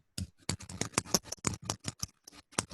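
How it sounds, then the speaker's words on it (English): Rapid, uneven keyboard typing with dense clicks and short pauses, fairly close and distinct, with no voices over it. "I'm hearing some crazy typing."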